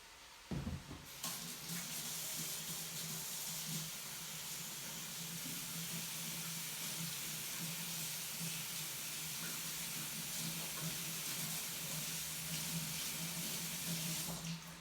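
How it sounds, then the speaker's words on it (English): A tap runs steadily for handwashing in a home kitchen, with a continuous hissing rush of water that starts with a small clatter and stays even and close for the full length, with no talk. "I'm going to wash my hands."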